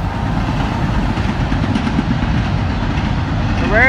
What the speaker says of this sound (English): The rare 3 locomotive triple header on Q195.